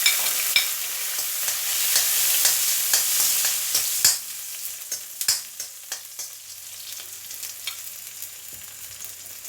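Garlic and cumin sizzle in hot oil for an eggplant dish, a steady bright frying hiss broken by sharp spatters and stirring clicks, close and loud before gradually settling.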